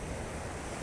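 Rough sea waves wash steadily onto a sloping beach in Balochistan, a dense continuous roar of surf with wind rushing across the microphone.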